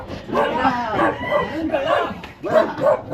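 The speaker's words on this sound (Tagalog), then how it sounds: "May aso nga dyan eh." A dog barks and yips in short bursts close by, mixed with people talking in Tagalog at a feeding outing.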